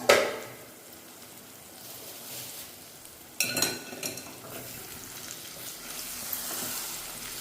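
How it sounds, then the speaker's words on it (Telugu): Egg curry gently stirred in a frying pan, a soft scraping and sizzle close by, with a brief clatter early on and a louder stir midway, no talk. "చిన్నగా ఇలా కదుపుకోవాలండి"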